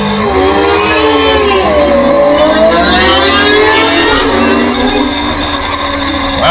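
A wave of novice open modified production racing motorcycles accelerating hard away from the start, a loud dense roar of engines climbing in pitch together, with no voices over it.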